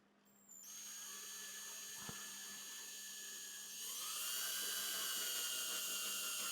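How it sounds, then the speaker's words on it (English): A high-pitched electric drill whines steadily after starting up, rising in pitch near the end as it bores a small hole into scrap wood. "and drill a little hole."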